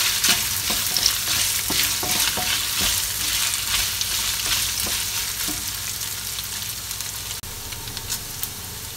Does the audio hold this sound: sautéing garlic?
yes